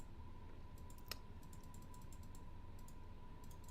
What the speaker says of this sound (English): You can probably hear my mouse clicking like crazy.